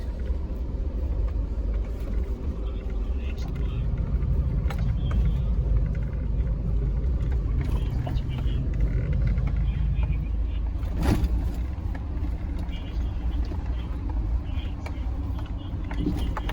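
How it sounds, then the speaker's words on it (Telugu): A Bolero SUV drives along a rough rural road near a village in Nalgonda district, giving a steady, loud engine and road rumble with cabin bumps and an occasional sharper knock, while talk runs over it throughout. "నాది బొలెరో వెహికల్ అండి. సో కొంచెం రఫ్గా ఉంటుంది డ్రైవింగ్ ఇది."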